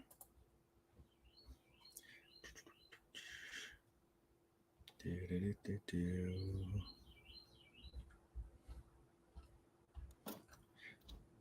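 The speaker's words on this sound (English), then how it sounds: "I can hear chirpy birds. Yeah, they're in my backyard." Small birds chirp in a backyard, with faint repeated tweets rising at intervals through low background, while a person talks over them in the middle stretch.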